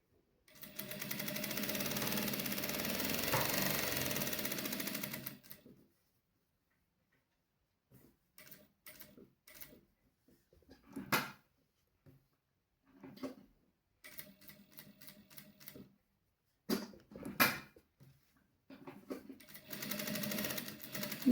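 A domestic sewing machine stitches fabric in one long steady run at first, then follows with short intermittent bursts of stitching and mechanical clicks separated by quiet gaps.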